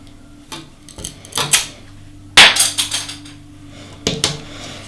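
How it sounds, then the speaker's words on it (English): Wooden cake dowel being cut just below the icing line, with several crisp snapping and clicking bursts in irregular clusters, close by with no voices. "So you want to make a mark and cut your first dowel."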